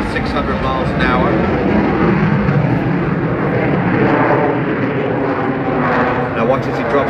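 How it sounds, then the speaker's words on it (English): A jet aircraft at a Scottish airshow in Ayrshire goes into reheat, a loud continuous roar with a shifting engine tone that fills the whole stretch, with a commentator's voice talking over it. "there was the reheat as he positioned the aircraft back up and instantly speeding back up to 600 miles an hour"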